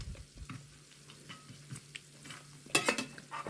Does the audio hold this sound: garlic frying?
yes